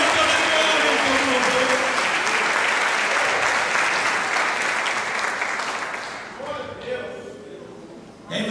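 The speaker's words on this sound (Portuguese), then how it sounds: "Se você crê nisso, aplaude a Ele" A church congregation applauds loudly and steadily during a family worship service, the dense clapping sustained for several seconds before thinning and fading near the end as a voice comes in.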